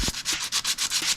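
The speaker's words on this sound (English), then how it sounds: "just been like sanding this up" Rhythmic back-and-forth sanding strokes rasp close by on a rusty metal dirt bike frame, about eight quick scrapes in a row.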